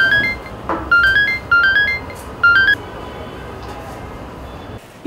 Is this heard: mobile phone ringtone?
yes